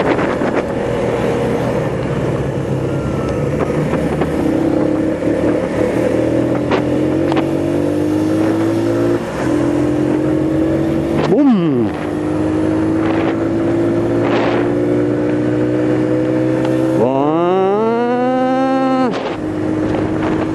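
A Bajaj Boxer CT motorcycle engine under way, a loud continuous drone whose pitch climbs steadily through each gear, drops sharply at a shift, then rises again, with wind rushing over the microphone throughout.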